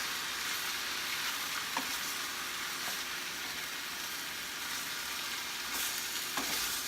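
Spaghetti squash cooks in a pan with a broad, steady frying hiss, and a few faint stirring clicks come through at irregular intervals.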